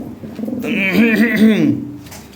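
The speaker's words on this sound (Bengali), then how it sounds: "এগুলাই কোয়ালিটি ফুল কবুতর এগুলাই অরিজিনাল জিনিস অরিজিনাল লাহড়ি" A Lahore pigeon coos once up close, a loud, throaty rolling call lasting about a second before it fades out.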